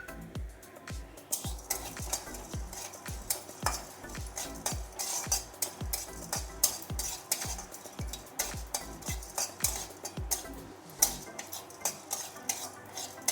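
Whole peppercorns, a dried red chilli, cinnamon, cardamom and cumin seeds dry-roasting in a kadai, with a steady run of sharp rhythmic scrapes and clinks of a spatula against the pan over a faint crackle, close and fairly loud, no talking.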